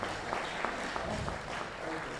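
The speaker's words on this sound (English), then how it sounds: "Shall we give another round of applause for our keynote speaker?" Audience applause for a keynote speaker at an international philosophy day symposium, steady dense clapping from a crowd throughout, fairly loud and continuous with no talk over it.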